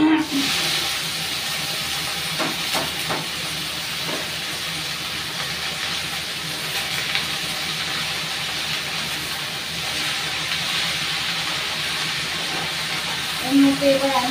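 Leafy greens are dropped into hot oil that has browned in a pan for a Bengali home lunch, setting off a loud, continuous frying hiss that holds steady throughout, with a faint voice at moments.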